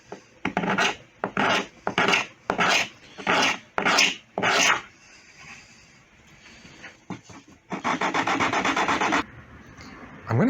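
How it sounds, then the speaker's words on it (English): A hand gouge carves wood in a rhythm of about seven short, rasping strokes, followed by a pause and then one longer, steady cut, all close up. "I'm going to use this gouge"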